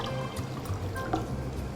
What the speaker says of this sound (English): then we are going to dilute it with some water